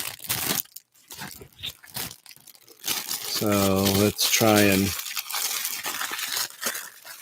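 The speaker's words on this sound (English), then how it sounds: "One of my least favorite sounds in the world are plastic bags." Plastic bags crinkling and rustling loudly while a collectible box is unboxed, with continuous crackling under a voice and a brief tonal squeak in the middle.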